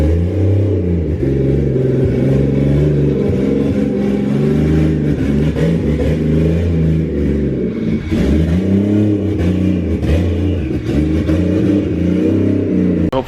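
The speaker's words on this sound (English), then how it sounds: "let's hear that twin disc rattle" A Toyota JZX100 Chaser with a twin disc clutch revs hard and repeatedly, its loud close engine roar climbing and dropping in several blips over a rattly mechanical chatter, with no talk.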